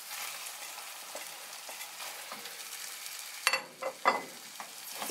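Browned ground beef sizzles quietly in a pan for Peruvian meat empanadas, with a soft continuous frying hiss, then a few louder scrapes and knocks as a utensil stirs the meat.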